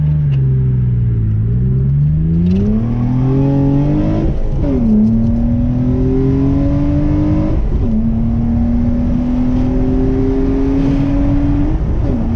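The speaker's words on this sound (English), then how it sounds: "I got Chris driving a G right now" Honda Civic EG on the road, its engine revving up through several gear changes with rising pitch sweeps and short dips between shifts, loud and close from inside the car, no talk.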